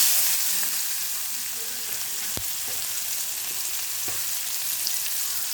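Onions frying in oil left over from frying dried fish, for a karuvadu thokku, make a loud, steady sizzle close by. One sharp clink of a utensil stands out partway through.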